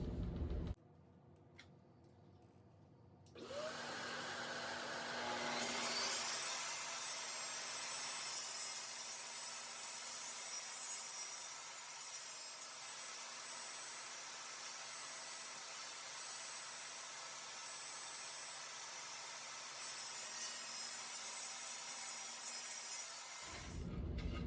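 A table saw with a sled trues up the edge of a wood board for a pottery stool build: a brief quiet stretch, then the loud steady whine of the blade running and cutting for about twenty seconds before it stops.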